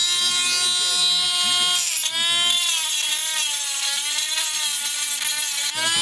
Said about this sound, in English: I can't snap the axle in there because I gotta grind that away.